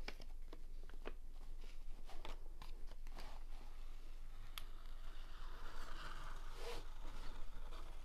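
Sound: peeling backing film off diamond painting canvas

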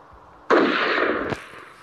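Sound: gunshots in the video game Clear Vision 3

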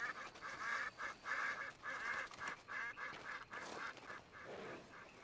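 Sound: ducks quacking in the video game Red Dead Online

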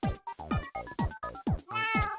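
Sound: cat meowing in Minecraft video game

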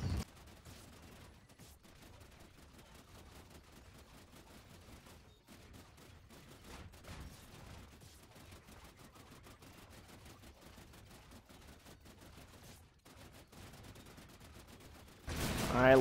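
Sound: head cutter wonder weapon firing in video game

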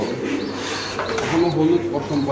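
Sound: pigeons cooing

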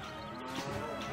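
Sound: cows mooing in the video game Stronghold

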